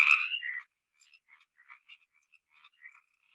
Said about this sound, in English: We have the Sierra tree frog or Pacific chorus frog, and you guys might have seen these around.